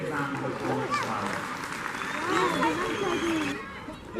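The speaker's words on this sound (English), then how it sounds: "I think Sydney deserves a really big round of applause as well" An audience at a Warwick Castle outdoor show claps for Sydney, giving a dense, continuous round of applause that fills the clip under a loud voice talking over it.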